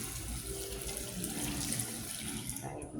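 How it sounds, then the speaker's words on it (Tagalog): Water runs steadily from a tap as hands are washed in a toilet washroom, a continuous broadband splashing hiss at moderate, close level throughout, tapering at the end. "So, I'm gonna wash my hands."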